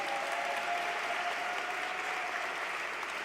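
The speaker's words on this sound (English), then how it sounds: "One more round of applause for all of our honorees tonight." Steady applause from a gala audience honoring award recipients, a dense, continuous wash of clapping filling the room at even loudness with no voices standing out.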